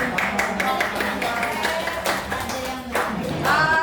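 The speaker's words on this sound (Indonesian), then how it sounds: "Kasih tepuk tangan." Students in a classroom clap for classmates after a presentation, a scattered, uneven round of hand claps with voices murmuring underneath, fairly close and moderately loud.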